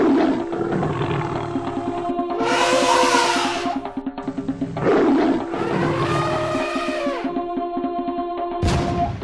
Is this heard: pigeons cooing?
no